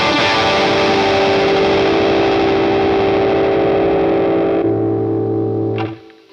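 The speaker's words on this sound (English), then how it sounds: "This is an overdrive based on the OD1" Electric guitar through a Boss Katana amp on an OD1-style overdrive, playing a loud sustained distorted chord that rings for several seconds, then drops to a low held note before cutting off.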